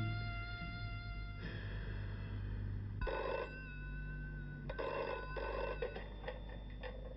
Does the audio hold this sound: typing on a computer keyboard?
no